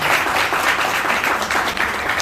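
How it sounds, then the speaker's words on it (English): Students at an intern felicitation event are applauded by the audience in a loud, continuous burst of many hands clapping. "the biggest round of applause should go to our wonderful students"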